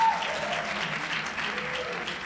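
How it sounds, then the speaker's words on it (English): Crowd applause greets a performer walking onto the stage at a song showcase, even steady clapping throughout, with a voice heard over it at the start. "Let's have a great round of applause for him as he comes."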